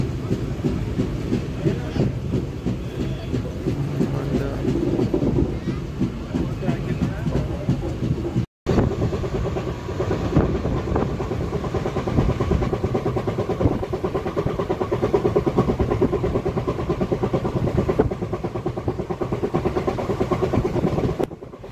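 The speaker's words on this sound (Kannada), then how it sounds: "ನಮ್ಮ ಟ್ರೈನು ಮಂಡ್ಯನಿಂದ ಡಿಪಾರ್ಟ್ ಆಗಿದೆ" A Malgudi Express passenger train (KSR Bengaluru to Mysuru) rumbles steadily along the rails with rhythmic clatter after leaving Mandya, loud and close throughout, with a brief cut partway through and faint talk underneath.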